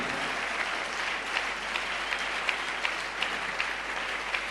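A church congregation claps in acclamation, giving steady, fairly soft applause at a moderate distance with scattered louder claps and no talk over it.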